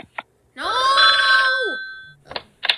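A telephone bell rings once in a sustained loud trill, with brief short sounds before and after it.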